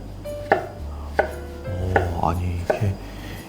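A knife slices abalone thinly on a cutting board, with four or five crisp chopping strokes spaced about half a second apart and loud against a quiet kitchen.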